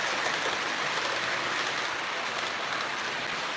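An O gauge model train runs on the inner loop of a layout, giving a continuous moderate rushing rumble of wheels on track, steady and unbroken, with no talking.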